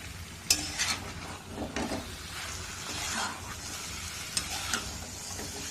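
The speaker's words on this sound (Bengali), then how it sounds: "যে মাংসটা আমি শুধু তেল আর হলুদ দিয়ে ম্যারিনেশন করে রেখেছিলাম সেটাকে ভালো করে কষিয়ে নেব।" Marinated meat coated in oil and turmeric fries in a pan, a continuous close sizzle broken by repeated scraping stirs and occasional sharp pops.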